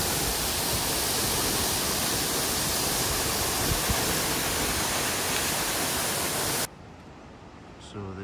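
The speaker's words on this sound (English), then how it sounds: "right next to this wonderful waterfall" Waterfall beside Benkar on the Everest Base Camp trek, heard close up as a loud, steady broadband roar that cuts off abruptly near the end, leaving quieter ambience.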